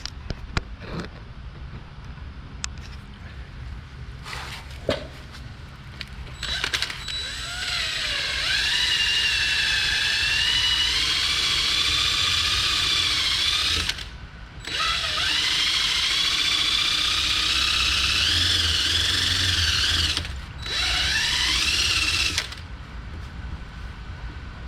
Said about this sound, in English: I've got the eraser wheel so we can remove some striping.